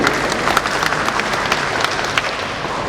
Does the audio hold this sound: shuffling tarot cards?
no